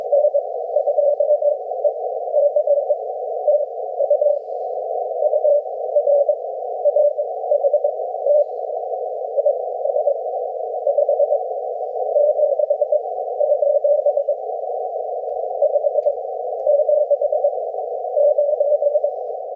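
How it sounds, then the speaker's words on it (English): A 40-meter amateur radio contact with N3VO, distorted by aurora: a narrow, buzzy, rough-edged tone pulses steadily in a keyed rhythm for about twenty seconds, fairly loud and alone with no talk. "you can hear just what that auroral distortion sounds like"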